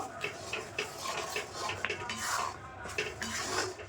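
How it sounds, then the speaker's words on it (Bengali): A spoon stirs amla candy mixture thickened with cornflour in a pan. Close metallic scraping and clinking repeat in quick, uneven strokes, with no speech. "তো এইভাবে অনাবরত কিন্তু নাড়তে থাকতে হবে না হলে কিন্তু জলে লেগে যেতে পারে"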